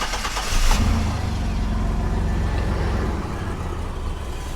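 A GMC Sonoma pickup truck engine catching and settling into a rough idle, running without its mass airflow sensor, a close mid-pitched hum with a brief rise at the start, no talk.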